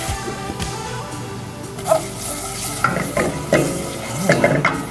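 A utensil stirs flour cooking in a pan for a weeknight dinner, with close scraping strokes over a steady sizzle and occasional sharper clinks against the pan, without talk.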